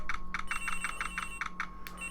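A phone in Ace Attorney Investigations rings as a rapid series of about nine short electronic trills in an even rhythm, fairly faint, with a brief brighter chime at the end.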